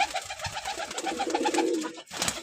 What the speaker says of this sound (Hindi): जनाब ये माशाल्लाह अपने प्योर क्वालिटी में बेहतरीन ब्रीडर बर्ड्स है